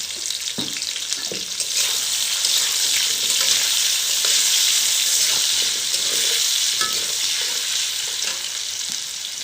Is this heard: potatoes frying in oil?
yes